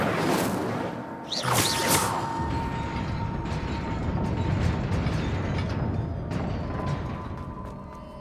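Incendio fire spell cast in Hogwarts Legacy: a sharp whooshing burst with a rising swish near the start, followed by a crackling, churning rumble that fades gradually.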